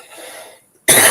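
A single sharp, loud cough bursts out close by after a moment of near silence, preceded by faint background sound.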